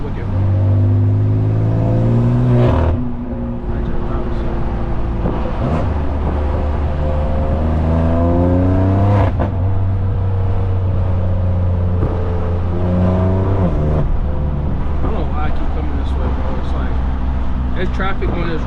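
Straight-piped 650 hp BMW F80 M3 exhaust revving loud and close in rising, falling sweeps with a sharp cut near three seconds, then more revs, with talk faintly mixed in.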